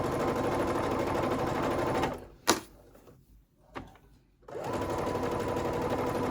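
Sewing machine stitching a summer halter maxi dress, a steady close whirring hum that stops for about two seconds with a couple of soft clicks, then resumes at full speed.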